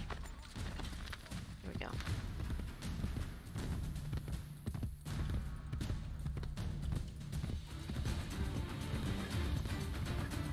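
Horse hooves clip-clopping at a steady trot in the Assassin's Creed Brotherhood video game, a continuous rhythmic patter under game music and someone talking throughout.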